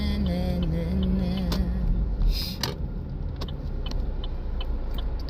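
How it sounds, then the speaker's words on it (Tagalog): Road traffic heard from inside a car in slow traffic, a steady low engine and road rumble with small clicks and rattles in the cabin, plus a short tonal hum at the start. "Medyo traffic ngayon guys."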